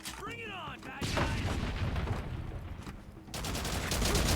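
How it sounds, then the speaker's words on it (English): Gunfire and explosions from the video game Haze, a grenade among them: dense, loud bursts of shooting and booms that rumble and fade, then swell again near the end. "Have a grenade. Eat this grenade,"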